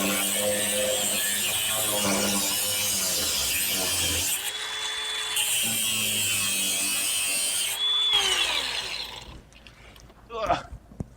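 A power tool cuts apart a sand-filled hot rod engine, a loud, steady grinding roar that runs close and continuous, dropping out briefly twice before trailing off into scattered clanks near the end.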